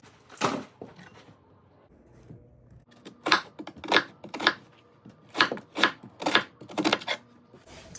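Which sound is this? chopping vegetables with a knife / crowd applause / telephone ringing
chopping vegetables with a knife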